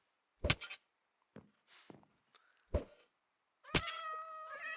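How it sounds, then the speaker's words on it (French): Several short cat meows with gaps between them, then a longer drawn-out meow at the end, in Minecraft, with a few soft knocks. "Des chats."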